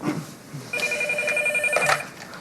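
A telephone rings indoors in a Québec television soap scene, a steady electronic bell tone with quick pulsing that starts after a short stretch of room noise and holds for over a second before cutting off.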